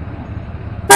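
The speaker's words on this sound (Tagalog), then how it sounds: "Busina mo nga." Quiet low rumble, then a short, loud motorcycle horn honk blares at the very end.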